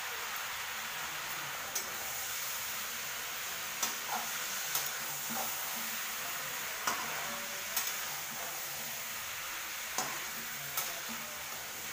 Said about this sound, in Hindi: अब थोड़ा सा ब्राउन होने तक इसको भून लीजिए